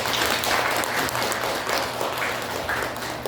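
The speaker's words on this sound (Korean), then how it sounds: "환영의 박수 한번 하겠습니다" A church congregation gives a warm welcome round of applause for a newly introduced member, dense, close clapping sustained evenly across the few seconds.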